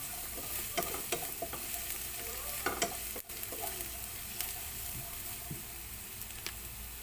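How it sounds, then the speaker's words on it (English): Garlic and ginger sauté in a pan for a stir fry, a steady close hiss of frying oil punctuated by light stirring clicks and scrapes, moderately loud with no speech. "we can put half of our garlic and half of the ginger. Just to saute for 1 minute"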